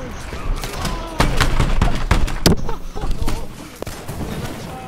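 Rapid bursts of video game gunfire with sharp cracks and booms during a tense match, loud and close, with a shouting voice over the shots.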